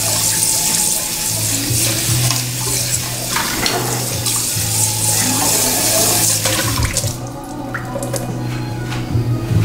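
Water runs steadily from a kitchen tap to rinse out a dish, with splashing and a low hum underneath, alone and continuous throughout.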